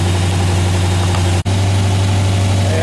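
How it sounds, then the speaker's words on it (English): The engine of a 1976 Corvette restomod idles close by with a loud, steady low hum and vibration, cut by one very brief break, with no voices. "So I started the engine to get it up to temperature."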